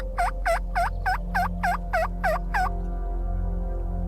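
Wild turkey jakes gobbling in Kansas, a rapid run of about nine loud, rattling gobble notes close by, then fading into quiet outdoor background.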